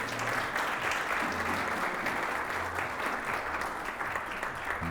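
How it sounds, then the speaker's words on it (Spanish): Steady, dense applause from a church congregation honoring a sister and her son, filling the whole stretch at an even level with a low murmur beneath. "Un aplauso, hermana Nelly"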